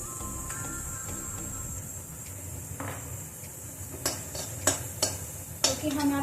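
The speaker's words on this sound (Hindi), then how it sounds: "जैसा कि तेल हमारा गर्म हो चुका है, तो सबसे पहले हम इसमें डाल देंगे हरी मिर्च" Green chillies go into hot olive oil with ajwain over a low flame, giving a soft sizzle with a few clinks and scrapes of a utensil against the pan, fairly quiet.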